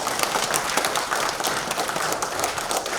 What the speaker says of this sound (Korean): 크게 박수 한번 보내시기 바랍니다